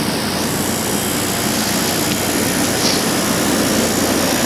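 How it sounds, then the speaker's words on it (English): A Whirlpool air conditioner compressor runs in a loud, steady, broadband whooshing drone that stays constant from start to finish. "the compressor sounds fine when it's running"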